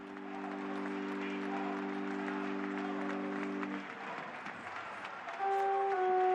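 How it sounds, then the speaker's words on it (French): Mourners at Pope Benedict XVI's funeral in St. Peter's Basilica applaud in a long, spread-out wash of clapping from a large crowd, with sustained organ-like tones sounding beneath and later rising over it. "Et les applaudissements de l'assistance comme dernier adieu."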